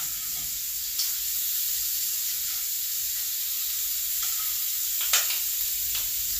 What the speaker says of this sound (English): I need to turn some more of my shrimp.